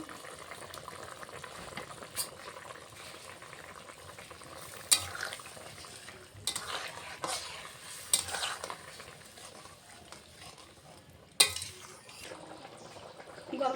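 Paneer and potol curry stirred in a pan after cashew paste goes in, a soft steady bubbling sizzle with scraping spoon strokes and occasional sharp clinks against the pot.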